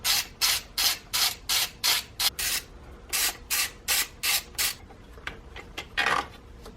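Nuts being removed from the throttle body bracket studs on a Saab 9-3, a close run of about a dozen quick rhythmic ratcheting bursts with short pauses between them, then a final burst after a gap.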